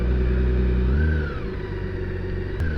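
A car engine runs after a shift into lower gear, its revs rising to a steady mid-pitched drone, then easing slightly and holding as a constant rumble up close.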